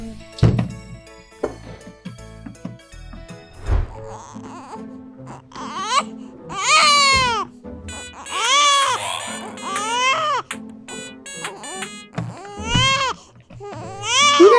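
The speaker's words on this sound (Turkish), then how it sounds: "bebek ağlıyor" An infant cries loudly and close by in repeated rising-and-falling wails, with some knocks and light background sounds in the first few seconds.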